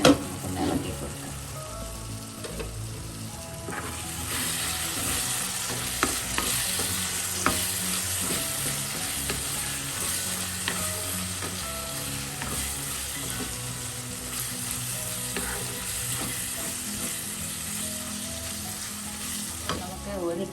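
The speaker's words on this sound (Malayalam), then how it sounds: "ഇടയ്ക്ക് തുറന്ന് ശേഷം ഒന്ന് ഇളക്കി കൊടുക്കാം." Goat liver with black pepper frying in a pan, sizzling steadily with repeated scraping stir strokes, close up and continuous, no voices.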